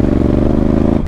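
A Honda Africa Twin motorcycle's exhaust gives a loud, deep, throbbing burble with a steady pulsing engine rhythm, close by and with no talking.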